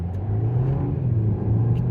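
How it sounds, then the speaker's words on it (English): A 2025 BMW X2 28i xDrive engine revs as heard from inside the cabin, a steady low rumbling drone that holds near and loud for a couple of seconds with no talking. "the rev time sounds better inside than it does outside"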